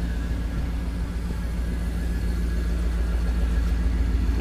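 A car engine fitted with a Flowmaster exhaust idles steadily close by, a continuous low rumble with a deep throb and no clear rev change.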